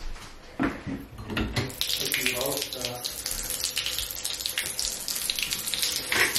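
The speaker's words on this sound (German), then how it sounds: "Ich könnte mir ja schon mal die Badewanne einlassen, ne?" Water from a bathroom tap gushes steadily into a bathtub under strong water pressure, a continuous loud rushing close by with some clattering at the start.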